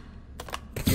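Weapon reload in the Call of Duty: Modern Warfare 3 campaign, a short run of close mechanical clicks and clacks, followed by a louder rattling handling noise at the end.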